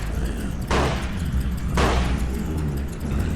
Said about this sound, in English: For the gunshots, I've added a little muzzle flash